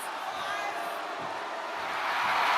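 A crowd cheers and roars steadily in the background of a WWE 2K24 wrestling video game, a dense wash of noise that swells slightly louder toward the end.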